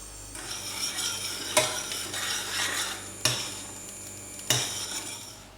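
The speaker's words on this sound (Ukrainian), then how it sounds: "Беремо їх, нагріваємо, щоб вони трошки загусли." Cream with 10% fat warming in a pot for spinach cream soup, a steady soft simmering hiss broken by three sharp metallic clinks of a utensil against the pot.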